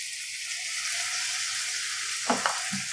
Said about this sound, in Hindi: सबको अच्छे से हम मिक्स करेंगे।